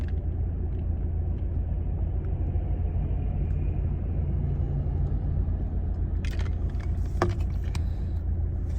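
A car on the road makes a low, steady rumble that holds through the whole stretch, followed near the end by some brief clatter and handling noises close by.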